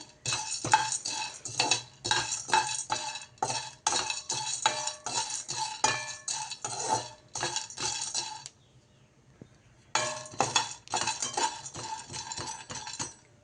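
Peanuts and roasted gram dry roasting together in a pan over a low flame, with rapid scraping and clinking stirs in close bursts, a short lull, then the stirring resumes.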